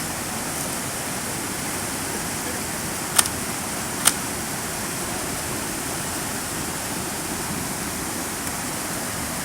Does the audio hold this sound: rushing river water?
yes